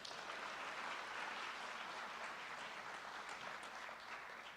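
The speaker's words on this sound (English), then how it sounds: "Let's give the Jefferson community a round of applause." Steady, full applause from a community crowd at a high school signing ceremony, even and continuous throughout with no voices standing out.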